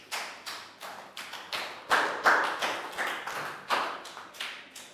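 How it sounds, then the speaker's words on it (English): A small group of schoolchildren claps in a classroom during a science lesson, a series of separate close bursts of claps and taps, uneven and rhythmic, with no talking. "Big high five and round of applause for Pak Bung"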